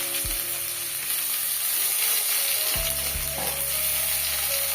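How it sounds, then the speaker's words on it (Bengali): Onion sizzles steadily in hot oil in a pan, the base for a Bengali fish curry, a continuous close frying hiss with a few brief stirring knocks. "এদিকে পেঁয়াজটা ভাজা হবে"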